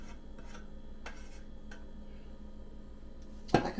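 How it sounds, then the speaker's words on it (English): Chutney mixture being scraped into a small buttered pan: a few soft rasping scrapes and light taps of a utensil against metal, with a sharper clink near the end, close and fairly quiet. "Putting the mixture in the pan."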